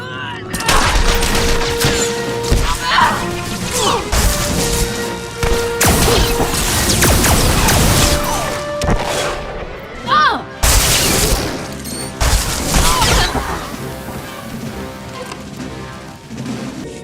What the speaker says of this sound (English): Lieutenant, we heard the explosion.